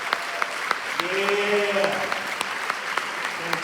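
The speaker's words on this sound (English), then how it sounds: "Let's give them a round of applause." Applause from a conference audience greeting first-year teachers at a keynote, a broad clapping wash with a speaking voice and brief voiced sounds over it.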